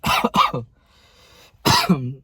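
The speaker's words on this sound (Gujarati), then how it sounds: "થોડીક ઉધરસ આવે." A person coughs twice in quick succession, pauses, then coughs again, loud and close with no speech.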